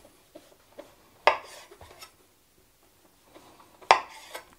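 A knife trimming the edges of a puffball mushroom, with soft scraping and two sharper scraping cuts against a hard surface, close and quiet in between.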